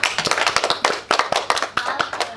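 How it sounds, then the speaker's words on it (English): A small group at a primary school honours presentation claps for a student named Zoe, a quick, dense patter of hands that stays fairly even before fading slightly at the end. "Well done, Zoe. Let's give her a clap."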